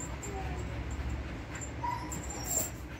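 A dog whimpers softly in faint, thin, high-pitched whines over a steady background hiss.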